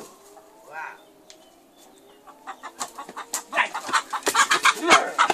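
Chickens cluck and squawk in a busy, rising flurry of short calls, close by, during a chicken-catching game, with some voices mixed in.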